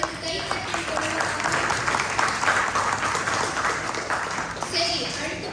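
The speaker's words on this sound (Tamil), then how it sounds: "சூப்பர் கண்ணா, அவளுக்கு கைத்தட்டல் கொடுக்கும்." An audience claps for a child reciting Thirukkural verses at a Malaysian school drama event, producing a dense, continuous wash of applause that holds steady for several seconds.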